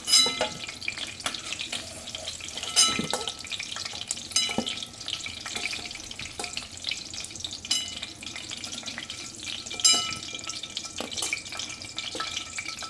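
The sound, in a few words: onions frying in oil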